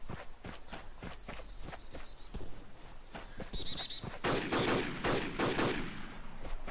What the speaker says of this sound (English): I found the source of the gunshots